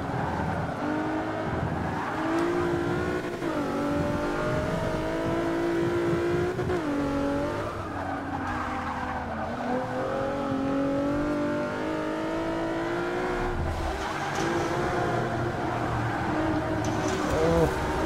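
Race car engines in the video game Forza 6, a lobby race at a Rio circuit: sustained harmonic engine drone rising and falling through gear changes, loud and continuous throughout, with other cars nearby.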